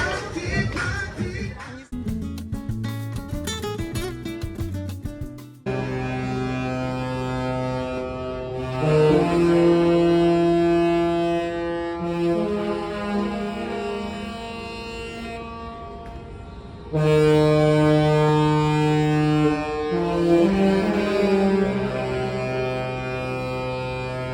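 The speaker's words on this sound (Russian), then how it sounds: "Послушали этот музыкальный гудок." A cruise ship's musical horn sounds a long tonal melody, loud and sustained, with deep brassy notes shifting pitch over a steady rumble, in Cozumel.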